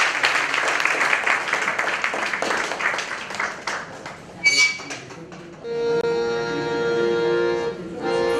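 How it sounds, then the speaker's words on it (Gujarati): An audience at an old-stage Gujarati theatre gathering applauds to welcome Rajniben, with a few seconds of steady clapping that thins out before music begins. "રજનીબેનને આમંત્રણ આપી તાળીઓથી સ્વાગત"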